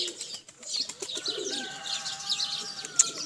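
Domestic pigeons coo softly in low rolling calls, with light chirps and a brief flutter of wings nearby.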